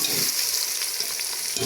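Tomato with ginger garlic paste fries in a pan for aloo palak, giving a steady, close hissing sizzle with faint stirring scrapes throughout the short moment.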